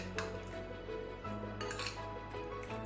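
Chicken tossed with black pepper, salt and sauces in a bowl, quiet clinks and scrapes of a spoon against the dish with soft squishy mixing throughout.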